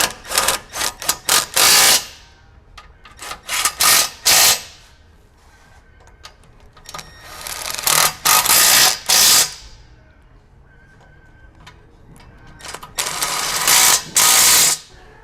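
Bolts on a rear bumper being tightened on a Lexus GX 470 with a power tool or ratchet: repeated sharp bursts of clattering in several clusters, close and loud, with quieter gaps between them.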